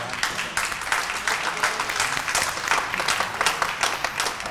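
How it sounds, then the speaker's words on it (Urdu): A studio audience at a Ramadan television show claps in loud, sustained applause, a dense wash of many hands close by with no break. "اتنی بھی تالیاں بج گئی ہیں"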